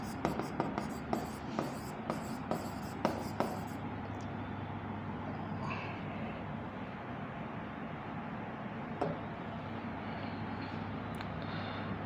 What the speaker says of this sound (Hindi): मैं इसको और सुंदर लिख दूं, और सुंदर लिख देता हूं